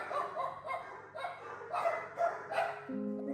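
Dogs at a homeless dog shelter in China bark in a string of quick, close yaps and woofs, several separate outbursts at moderate volume over a faint background hum.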